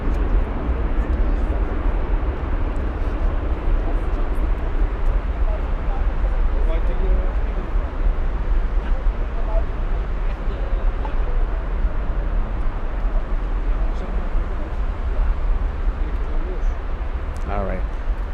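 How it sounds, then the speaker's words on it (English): A Middle East Airlines Airbus A321 arriving from Beirut lands at Frankfurt, its broad, steady engine roar holding loud and continuous throughout, with voices talking over it. "this is their flight 217 coming in from beautiful downtown Beirut, Lebanon, on an A321"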